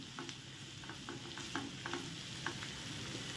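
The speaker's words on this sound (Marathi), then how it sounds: "गुलाबी रंगावर आपण कांदा असा व्यवस्थित भाजून घ्यायचा आहे।" Onion frying in oil in a wok for a Satara-style mutton curry, a quiet continuous sizzle with light intermittent stirring clicks, close and without speech.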